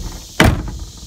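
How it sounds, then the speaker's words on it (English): The door of an old car that sat in a barn for 30 years shuts with a single solid thud. The sharp, loud slam stands out against quiet surroundings, followed by a brief faint rattle. "I mean, the door's closed like it's a new one."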